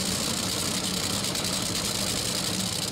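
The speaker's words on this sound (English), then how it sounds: "little twist of the screw for the idle adjustment" A drag racing car engine idles steadily, a continuous low rumble with a slight uneven throb, fairly close and without talk.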